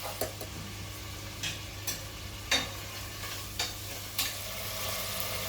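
Prawn and gongura pulao simmers quietly in a pan under a soft, steady sizzle, broken by several brief scraping knocks of stirring spaced about half a second to a second apart.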